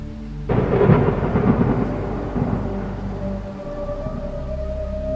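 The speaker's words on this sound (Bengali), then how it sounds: "আর তখনই আচমকা প্রচুর বৃষ্টি শুরু হয়।" A cartoon-style thunderstorm effect: a loud booming thunder roll breaks in over heavy rain, then fades into a steady downpour with a low droning tone, no voices.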